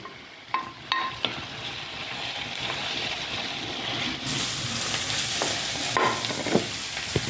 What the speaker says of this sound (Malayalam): സവാള അരിഞ്ഞതും കൂടെ ഇട്ട് കൊടുത്ത് ക്രഷ് ചെയ് ക്രഷ് ചെയ്ത് വെച്ച ജിഞ്ചർ ഗാർലിക്